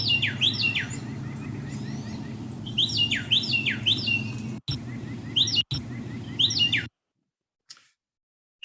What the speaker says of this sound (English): this is one of the birds, the Carolina wren, that I get a lot of calls about